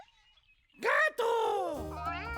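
A cat meows in two drawn-out, rising-and-falling calls, loud and close, over a faint musical background in a children's animal-sounds song.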